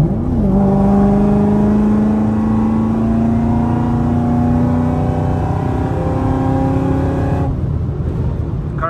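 A supercharged 2015 Camaro SS accelerates hard on a highway, its engine note rising steadily in a long, loud pull heard from inside the car, then easing off at the end.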